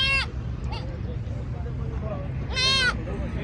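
Goats at a livestock market give a couple of bleats, one brief near the start and a louder drawn-out one near the end, over a murmur of background noise and crowd babble.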